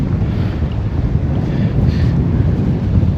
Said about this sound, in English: It's bloody wind, man.